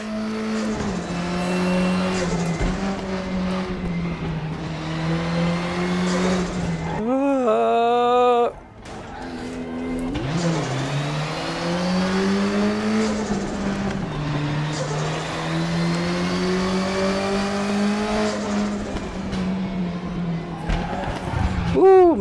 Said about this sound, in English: Downshifted without rev matching, and that's what happens when you do that.